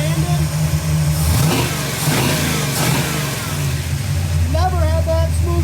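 Race car engine revving up and down after a carburetor adjustment, a loud, close, continuous mid-pitched roar with rising and falling pitch sweeps and a smooth climb toward the end.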